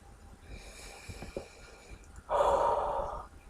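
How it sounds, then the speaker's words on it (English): Slow deep breathing close to the microphone, a soft drawn-in breath followed by a louder, rushing exhale that lasts about a second. "Focus on your breathing."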